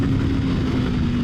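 A Kawasaki Versys X 300 motorcycle engine held near its highest revs on the road, a loud, steady high-pitched drone with a strong sustained tone running unbroken and close throughout.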